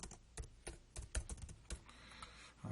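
Typing on a computer keyboard while filling in an ePortfolio entry: irregular bursts of sharp key clicks, some clustered and some spaced apart, close and moderately quiet, with no talking.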